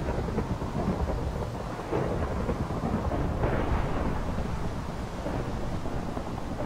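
Rolling thunder from lightning strikes in a video game, a dense, continuous low rumble with steady rain-like hiss, loud and unbroken throughout, with a slight swell near the middle.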